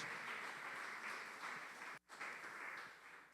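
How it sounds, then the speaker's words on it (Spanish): A congregation applauds loudly in continuous dense clapping, briefly dipping to near silence before resuming and tapering off. "Denle un aplauso bien fuerte al Señor Jesús."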